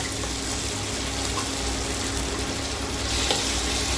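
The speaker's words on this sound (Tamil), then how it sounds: "இது கொஞ்சம் பச்சை வாசனை போகிற வச்சு கொஞ்சம் நல்லா வதக்கிக்கலாம்" Ground masala paste for a fish curry sautés in oil with onion and tomato, making a loud, dense, unbroken sizzle close by, with no speech.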